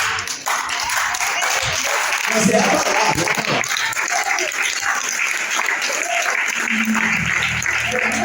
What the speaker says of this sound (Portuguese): Desocupe a sua mão e aplauda a palavra